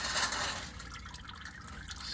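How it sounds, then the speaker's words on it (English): Engine oil trickles and drips from a 2017 Honda Civic 1.5L turbo into a drain pan, a soft, steady liquid patter heard up close with no talking. "yes, it's going to drip,"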